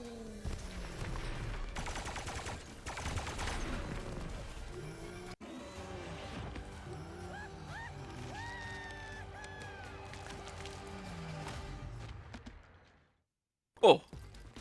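Gunfire in the Funko Fusion video game on PS5 in an Invincible cameo level: a dense stretch of rapid game shots and impacts under music and effects, fading to near silence before a sharp final burst.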